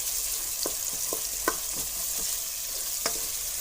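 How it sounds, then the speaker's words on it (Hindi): Spice masala for masoor dal roasting in hot oil, a steady close sizzle broken by a few sharp scraping clicks of a spoon against the pan. "अच्छी तरह ऑयल छोड़ दिया मसाले ने और अच्छी तरह भुनाई हो गया"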